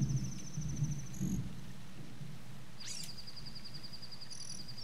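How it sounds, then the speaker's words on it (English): Thunder during a rainstorm: a low, distant rumble swells in the opening seconds, then settles into a faint, steady wash of rain, with thin high electronic tones drifting over it. "if you guys just heard the thunder, that's legit"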